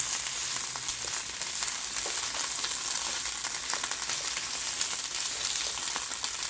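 Minced garlic sizzles steadily in a hot pan for Ram-Don noodles, a continuous close frying hiss with small crackles and no talking.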